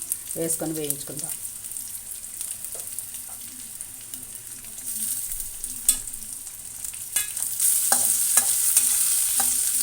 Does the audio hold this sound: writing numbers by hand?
no